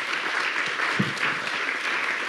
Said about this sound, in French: brillantes invités, on peut les applaudir.